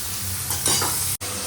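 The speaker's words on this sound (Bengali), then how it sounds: "নাও মাছ ভাজা" Steady crackling sizzle of small fish frying in hot oil, close and even throughout, with a brief dropout near the end.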